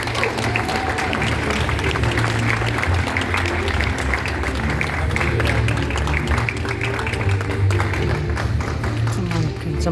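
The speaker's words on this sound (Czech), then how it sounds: "Let's put our hands together." Audience applause welcoming a speaker onto the stage at a business event in Prague, a steady dense clapping from a large crowd filling the room throughout, with a constant low hum beneath.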